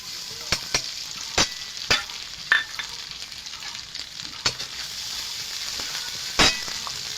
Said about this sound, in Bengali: দিয়ে দেবো পেঁয়াজ, রসুন বাটা। এটা একটু কষিয়ে নেব।